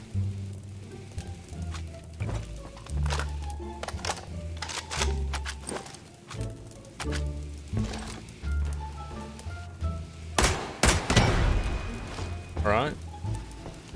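Gunfire in the video game Lost Light pops in quick irregular shots under a thumping music bed, with a few louder bursts near the end, while a person talks over it.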